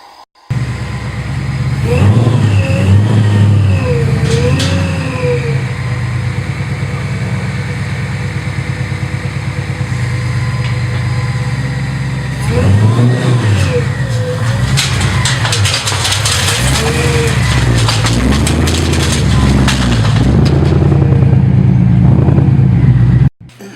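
A Ford GT500 with bolt-on upgrades revs hard on a dyno, its loud engine roaring continuously with rising and falling pitch across two long pulls, close and sustained with no talking.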